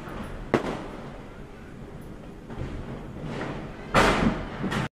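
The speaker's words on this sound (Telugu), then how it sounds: "ఎదురింటి పోరగాళ్ళు వదిలే రాకెట్లు చూడు" Festival firecrackers and rockets burst outdoors at night: a sharp crack early on, a few softer pops mid-way, then a loud cluster of bangs near the end over a background hum.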